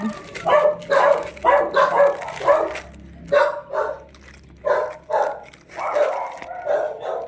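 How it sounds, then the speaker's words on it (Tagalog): A dog barks repeatedly in quick, uneven bursts close by, with short pauses between volleys and a low hum underneath. "Ingin ng aso"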